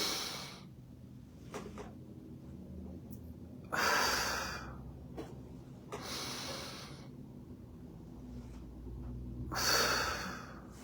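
Deep breathing exercise from a tongue-circles qigong routine: three long, forceful breaths, close and airy, separated by quieter pauses with no talk.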